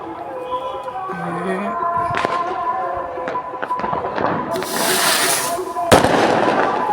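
Firecrackers crackle and pop in scattered bursts during Diwali night in a village, several of them duds, ending with a louder bang, while people talk nearby.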